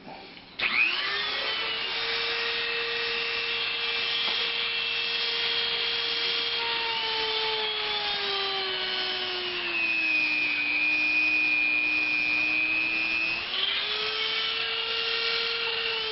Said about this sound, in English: If you try just jabbing the Dremel into the EVA foam, it will skip